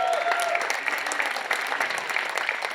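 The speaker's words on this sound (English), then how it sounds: "Let's give a nice round of applause" Dense, steady applause from an audience at an awards event fills the whole stretch, loud and sustained with no letup.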